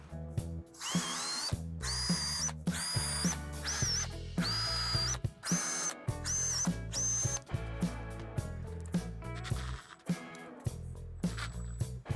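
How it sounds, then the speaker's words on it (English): A power drill whirs in repeated bursts, pitch rising as each of four pilot holes is bored into a wooden spline jig, with short pauses between runs. "We'll drill 4 pilot holes."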